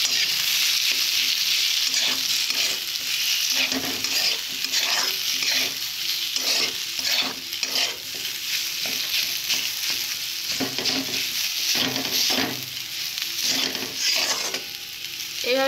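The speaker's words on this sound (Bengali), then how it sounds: "মাখা আলুগুলো দেব, দিয়ে ভালো করে ভেজে নেব এইভাবে" Mashed potatoes fry in a hot wok, a loud continuous sizzle broken by repeated scraping stirs of a spatula against the metal, close and without talk.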